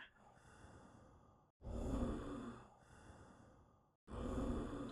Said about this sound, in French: La respiration non spécifique.